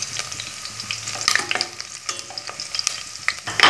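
Garlic fries in about two tablespoons of oil, a close crackling sizzle broken by frequent spatula scrapes and taps against the pan, ending in a louder stir; no voices.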